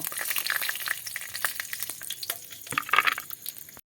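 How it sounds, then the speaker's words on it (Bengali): Cashew nuts frying in a pan for flattened-rice pulao, giving a close, busy sizzle broken by scraping stirs, with a brief louder flurry near the end before the sound cuts off abruptly. "কাজু বাদামগুলো ভাজা ভাজা করে নেব"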